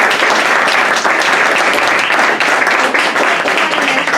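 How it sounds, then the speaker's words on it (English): A crowd at the 2018 Latinas in Marketing event bursts into loud, dense applause that stays close and sustained throughout, with no voices over it. "Do you want to join me on giving a round of applause?"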